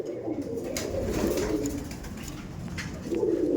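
Imported Giribaj pigeons coo in a low, continuous murmur of overlapping calls that carries on without a break, close and fairly soft, with no voices.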